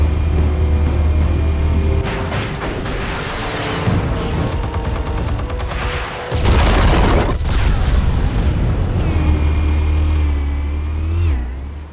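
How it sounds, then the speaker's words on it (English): Explosives detonate in Batman: The Telltale Series, with loud booms and rumbling blasts, rattling debris and a revving engine surging over about twelve seconds of dense, close action. "Explosives armed. Fire when ready."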